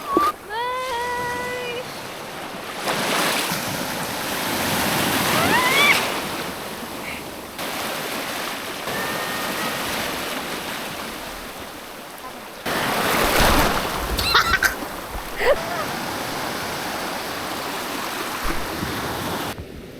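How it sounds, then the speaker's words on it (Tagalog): River water flowing where it meets the sea, a steady loud wash of water and surf, with a few high bird-like chirps early on and brief bursts of noise partway through. "Ito na yung ilog na may dagat."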